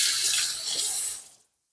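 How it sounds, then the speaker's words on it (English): Hands being washed under a running kitchen tap, a close, hissing rush of water that flows steadily for about a second before shutting off. "so I'm going to wash my hands."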